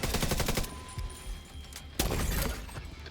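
Video game gunfire crackles in rapid automatic bursts, loud and close, with a pause and then a fresh heavy volley, no talking over it.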